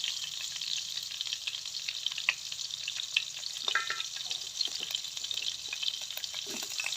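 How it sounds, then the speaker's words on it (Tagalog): Garlic frying in hot cooking oil for a morning dish of misua with alugbati, a steady bright sizzle with crackling pops and occasional stirring scrapes, close and continuous. "Hayaan muna natin na mainit ang ating mantika. So, ilagay na natin ating bawang."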